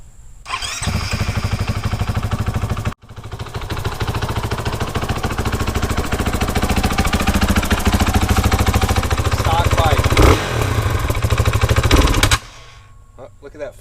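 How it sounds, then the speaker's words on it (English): A stock 2019 KTM 500 EXC-F dirt bike with its factory muffler and spark screen, cold-started up close: the engine barks to life, briefly cuts out, restarts and holds a loud, rapid thumping idle with blips and revs before shutting off. "we're going to try to get a baseline sound so you guys can hear what the bike sounds like stock"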